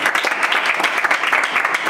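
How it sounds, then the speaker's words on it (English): A crowd of people claps steadily for a performer during a sightseeing visit in Toruń, a dense, continuous patter of hands at moderate loudness with no voices over it. "clap for him"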